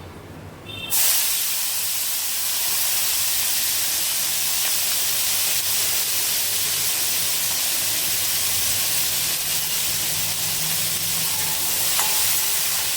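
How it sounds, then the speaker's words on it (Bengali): A sudden loud burst of sizzling hiss erupts after a quiet start as hot spice tempering is poured onto jackfruit seeds, eggplant and potato, then holds as a steady, intense crackling fry until the end. "ফোড়নটা আমার ভাজা হয়ে গেছে, দিয়ে দিচ্ছি সবজিতে"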